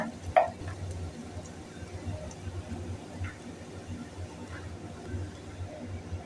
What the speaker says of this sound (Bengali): তারপর তেল গরম হয়ে গেলে দিয়ে দিচ্ছি কুচি করে রাখা পেঁয়াজ